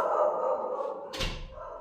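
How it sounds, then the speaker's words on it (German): A door swung shut indoors, giving one dull thud with a brief burst of noise at the close, heard over a background hum and without speech. "Moment, ich mach mal die Tür zu, weil es ist ein bisschen laut."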